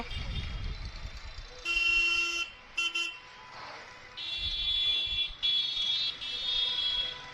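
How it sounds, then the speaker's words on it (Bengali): Car horns blare in a road traffic jam on the NH-12 highway, several long loud honks and shorter toots overlapping above a low engine rumble. "রাস্তায় আজকে সাংঘাতিক জ্যাম আছে।"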